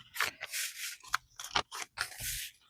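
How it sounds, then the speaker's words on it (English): Scissors trim the edges of paper up close, making several crisp snipping and rustling cuts in an uneven rhythm, each a sharp blade scrape with short pauses between. No one talks. "And then I'm going to trim the edges down also."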